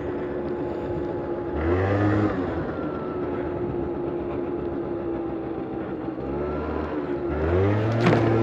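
Scooter engine revving and dropping in repeated bursts during a wheelie, the throttle opening and closing as it accelerates and brakes, loud and close with no talk.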